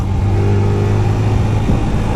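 Orcal Astor 125 café racer motorcycle engine in traffic, a steady mid-pitched drone with a slight rise in revs near the end, continuous and fairly loud with no talking.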